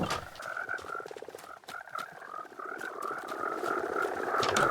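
Frogs in a Minecraft mangrove swamp croak in a continuous, busy chorus of overlapping rhythmic ribbits, close and steady, with scattered clicks and no voices.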